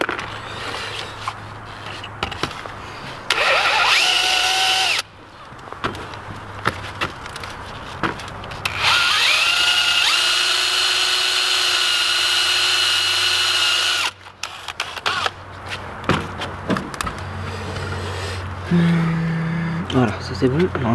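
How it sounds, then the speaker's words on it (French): A power drill bores through a part in several bursts, each a loud whining run that starts and stops, with short quiet gaps and brief handling noises between them. "Il faut que je perce encore."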